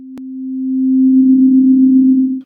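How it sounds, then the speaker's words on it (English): A pure, smooth sine tone holds one steady low-mid pitch, swelling gently louder over two seconds after a faint click at the start. "A sine sounds smooth"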